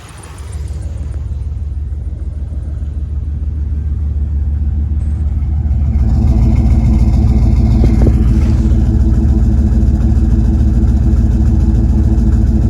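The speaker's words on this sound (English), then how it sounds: "Belt squeaking a little bit." A 1999 Dodge Dakota V8 runs at a steady, loud idle after being started, with a deep rumble throughout; a faint belt squeak is not clearly distinct under the engine noise.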